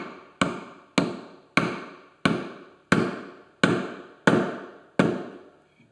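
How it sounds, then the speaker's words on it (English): A soft-faced hammer taps a woodworking dovetail joint home, eight evenly spaced, moderately loud blows with short decaying rings, close and alone with no talk. "Soft face of my hammer here."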